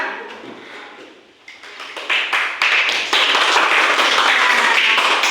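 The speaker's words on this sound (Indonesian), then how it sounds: "kelompok 2 tepuk tangan untuk kelompok 2" Classroom applause for a student group, starting with a few scattered separate claps that quickly build into steady, fairly loud clapping from the whole class.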